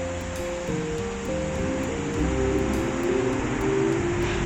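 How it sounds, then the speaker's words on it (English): Water rushes steadily through an opened small sluice gate at the Salter Hebble guillotine lock on a canal, a constant close roar with gentle variation, heard over a low humming background drone. "The small sluice gate has opened, so the water is now going down."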